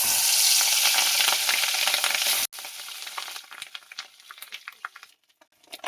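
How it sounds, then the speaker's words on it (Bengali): Fish roe sizzles loudly in hot oil in a pan, a dense steady crackle that drops off abruptly midway, then returns as softer, irregular spitting and popping that fades near the end. "এই ডিমটা আমি ভেজে নেব।"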